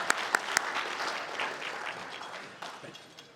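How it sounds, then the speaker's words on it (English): A conference audience of teachers at the HSTA 2022 Start of Year Conference in Hawaii bursts into applause, with a few sharp close claps at the start, then a dense steady wash of clapping that slowly fades. "round of applause for you guys for stepping up for me and Sylvia"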